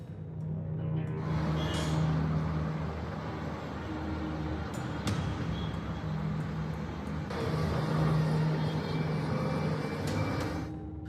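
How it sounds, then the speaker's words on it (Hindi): Slow traffic crawling along narrow mountain roads, a continuous rumble of car and bus engines with occasional horn-like tones and passing vehicles, moderately loud and steady with no talk. "पहाड़ों के संकरे रास्तों पर रेंगती गाड़ियों का शोर"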